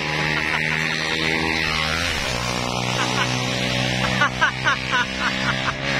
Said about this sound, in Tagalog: Ang ingay ng tricycle.